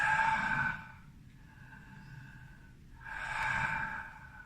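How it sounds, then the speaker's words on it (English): Slow, deep breaths drawn close to the microphone, two long airy exhalations separated by a quieter pause, with no talking. "pause, take a few deep breaths"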